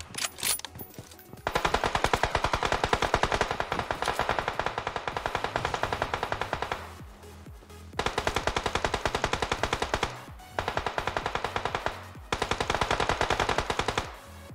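Bursts of MG3 machine gun fire in the shooter game PUBG Mobile on the Erangel map, long rapid strings of loud shots broken by short pauses, with no talk over them.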